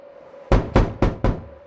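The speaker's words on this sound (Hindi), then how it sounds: "पुलिस जोर लगाकर सुकेश के कमरे का दरवाजा खोल देती है," Four heavy, evenly spaced thuds against a door as police force it open in a horror story, loud and close over a faint low hum.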